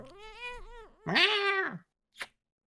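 Young kitten meowing: two drawn-out, wavering cries close by, the second louder and more strained, then a short faint squeak after a pause.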